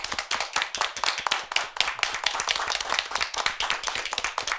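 A studio audience claps steadily and briskly to welcome a guest, a dense, close wash of applause at even strength throughout.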